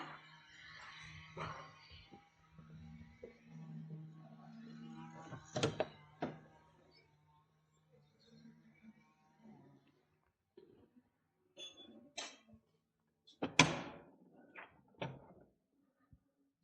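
A hotel entrance door opening with a few sharp thunks and clicks, amid quiet ambience and faint background music and voices.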